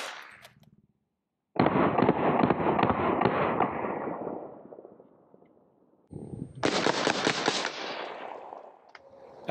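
Two long full-auto bursts of .45 ball from a longer-barreled UMP submachine gun fired at a military surplus flak vest, loud and close, each rattling for a few seconds and then trailing off in echo.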